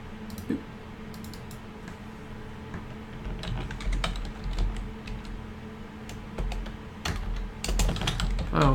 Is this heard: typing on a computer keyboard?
yes